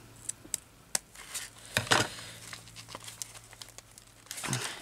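Scissors snip through fabric in short, quiet bursts, several separate crisp cuts and rustles spaced irregularly, close and faint with no talk.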